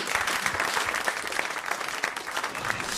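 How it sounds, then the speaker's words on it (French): Warm studio audience applause on a French radio comedy show, a steady, moderately loud patter of many hands clapping, continuing evenly for a few seconds with no speech on top. "On vous applaudit."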